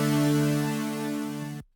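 Layered synth war horn notes without fine tuning hold a single bright, brassy, buzzing tone for about a second and a half, then cut off abruptly; loud and alone.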